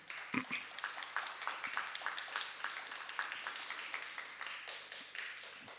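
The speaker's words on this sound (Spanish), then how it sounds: "a quienes vamos a brindar un fuerte aplauso, por favor" Audience applause at a conference on equality, honouring two young girls from a school for blind and low-vision children; faint, distant and even clapping with a few sharper claps standing out.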